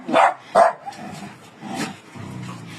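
Two sharp dog barks close by, then softer yips and whines trailing off.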